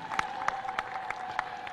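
Applause at the inauguration of a Tanzania Revenue Authority building in Simiyu region: a crowd claps steadily at moderate distance, with individual sharp claps standing out over a continuous patter.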